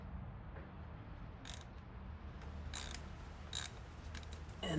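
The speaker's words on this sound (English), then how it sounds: "And I'm just gonna kind of loosen each one first before taking them all the way off." A ratchet with a 10 mm socket loosening the cam cover bolts on a VW MK7 Golf GTI EA888 Gen 3 engine, giving a few short, close clicking bursts over a quiet background.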